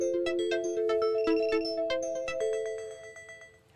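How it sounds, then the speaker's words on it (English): A phone ringtone chimes out a repeating melodic pattern of bright electronic tones, moderately loud and alone, fading slightly toward the end. "I hear something ringing."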